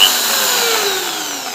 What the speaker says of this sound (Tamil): அதே மாதிரி பார்த்திங்கன்னா ட்ரில்லும் பட்டிக்கலாம்.